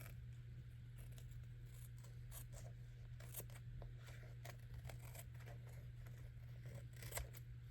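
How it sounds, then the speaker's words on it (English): Quiet, close snips of scissors trimming paper pages for a glue book, irregular short clicks and rustles over a low steady hum. "Ooh, not those scissors. We'll try these scissors"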